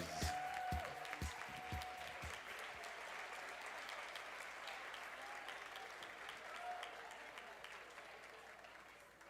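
Faint applause and cheering from a crowd at a dance competition awards ceremony for the winners, with a few sharp claps up front settling into a steady, distant wash of clapping.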